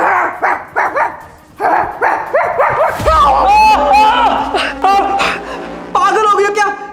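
A woman imitates a dog with repeated barks, yips and growling snarls, loud and close, in bursts that run into one another, as she pretends to bark at and bite her husband.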